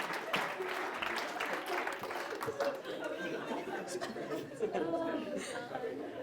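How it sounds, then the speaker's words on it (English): An audience claps and cheers in a hall, a dense, steady round of applause mixed with chatter and chuckles, with voices talking over it. "round of applause for Brent"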